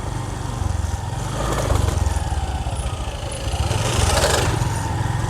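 A motorcycle engine drones steadily up close, its revving rising and falling as it rides along, with no talking.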